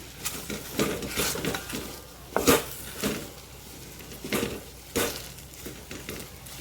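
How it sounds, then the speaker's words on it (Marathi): Taro (arbi) pieces being tossed with spices in a pan, giving soft, irregular scraping and light clattering bursts with a few sharper utensil knocks, moderately close and quiet, with no voices. "आता हे सर्व मिक्स करून घ्यायचे मसाले व्यवस्थित भाजीला लावून घ्यायचे"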